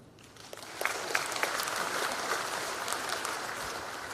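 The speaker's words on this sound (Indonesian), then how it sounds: "Ini yang harus kita tepuk tangan." An audience at a presidential talk about concert permits in Indonesia breaks into applause that builds quickly into a broad, sustained wash of clapping, with scattered sharper claps near the start.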